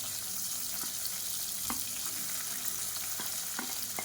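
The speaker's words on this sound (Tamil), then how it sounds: "இப்போ இதில் நீளமாக நறுக்குன வெங்காயம் சேர்த்துக்கலாம்." Sliced onions fry in oil with whole spices and mint leaves for a Tamil salna side dish, giving a steady close crackling sizzle with a few sharp stirring clicks throughout.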